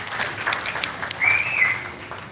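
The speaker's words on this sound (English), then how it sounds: "please give her a round of applause" An audience at a magic show breaks into applause, a dense wash of clapping sustained throughout at moderate volume.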